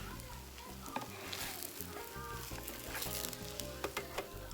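Cheesy garlic bread sizzling on a grill, a soft, steady hiss with scattered pops and crackles over a low rumbling background.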